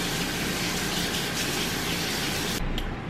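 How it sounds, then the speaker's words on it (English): Hands washed under a strong running tap, a loud continuous gush of water close by that cuts off abruptly near the end. "Wash my hands."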